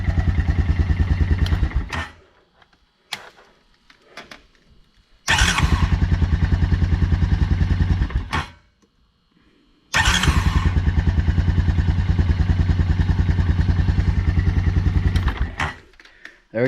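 A 2004 Honda Recon 250 ATV engine, just fitted with a new starter, cranks and runs loudly and close in three bursts of steady idling separated by short silences and clicks.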